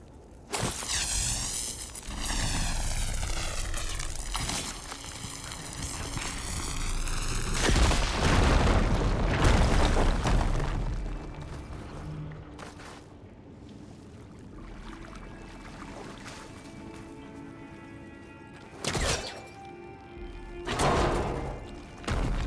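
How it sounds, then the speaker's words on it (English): A fire gleam deposit blown up in Horizon Forbidden West: a loud boom with crackling debris and a long rumbling tail, followed later by a few sharp bursts over ambient game music. "Should be able to blow up that fire gleam."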